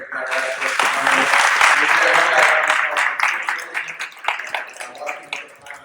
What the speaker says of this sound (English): can we give a round of applause to our subject matter experts for coming?